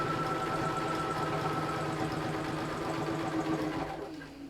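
A sewing machine runs steadily as it lock stitches fabric for a cathedral window pin cushion, a fast even mechanical whir that carries on for a few seconds and then slows toward the end.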